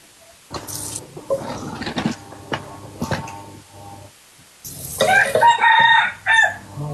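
A rooster crows loudly and close by near the end, after a stretch of scattered clucking and rustling sounds.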